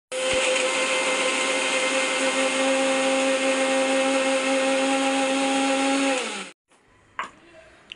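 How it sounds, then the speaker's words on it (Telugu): A kitchen mixer grinds ginger and chillies into masala for a fish fry, running as a loud, steady whine for about six seconds before cutting off, followed by a few faint clicks. "ఈ చేపలకి ఫ్రైకి అల్లం, కొన్ని చిన్నపిల్లలు కొద్దిగా మిక్స్ చేసుకుందాం"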